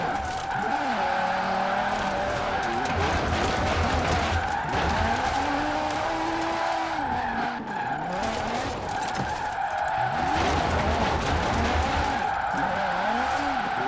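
A car on drag tires drifts in Forza Horizon 4 with long, wavering tire squeals over a loud, revving engine, the screech rising and falling through repeated slides.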